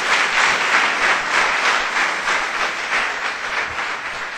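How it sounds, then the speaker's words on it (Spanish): A church congregation applauds steadily in a sanctuary, dense continuous clapping holding at a loud, even level from start to finish with no voices standing out. "dale un aplauso"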